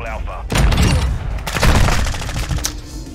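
Video game gunfire crackles in dense bursts of shots with heavy low booms, loud and close, with talk mixed in.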